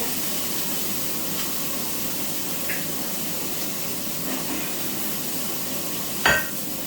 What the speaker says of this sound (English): Now I'm gonna fry this pasta, which is the baby corn and the broccoli